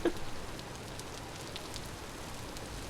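Rain in the video game Vintage Story: a steady, soft wash of falling rain with faint scattered droplet ticks, continuous and even throughout with no voices.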